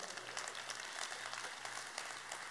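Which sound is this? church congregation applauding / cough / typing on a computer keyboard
church congregation applauding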